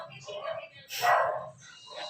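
A dog barks loudly at close range, with lighter yips before and after it and a low hum underneath.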